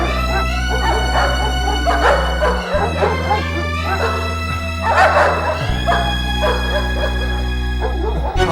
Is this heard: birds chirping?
no